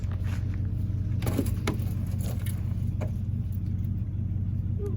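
A Cummins 24-valve diesel truck engine, cold and left sitting for a month in freezing weather, gives off a steady, deep rumble with a few brief knocks and clatters over it.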